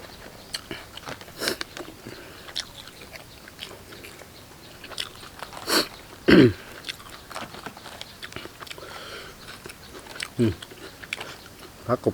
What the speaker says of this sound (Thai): กินเขาคำใหญ่เริ่มตึงแล้ว